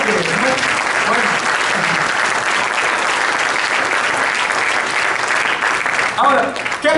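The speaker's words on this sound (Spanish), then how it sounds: "Yo sé que ese aplauso está tan flojo" A church congregation keeps up continuous applause for around seven seconds, loud and dense throughout, with a voice faintly heard under the clapping near the start and end.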